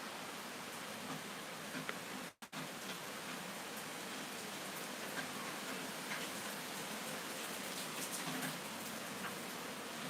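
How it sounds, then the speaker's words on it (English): Steady rain falls on a surface as a continuous, even hiss of drops, with a brief dropout partway through before the patter resumes unchanged. "I wonder if you can hear the rain"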